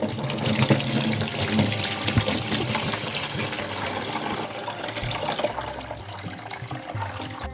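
Cooking liquid from boiled water apples is poured off, a continuous splashing gush with a strong, full stream that runs steadily and thins toward the end.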